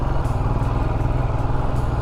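Motorcycle on a long solo ride to Mcleodganj, climbing a very steep mountain road, its engine chugging steadily and fairly loud with a rhythmic pulsing throb and no talk over it.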